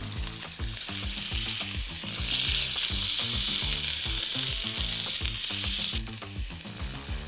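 A beef patty is smashed flat onto a hot griddle for a smashburger and sizzles loudly and steadily, with a spatula scraping and tapping in a quick rhythm close by; the hiss swells halfway through and no one talks.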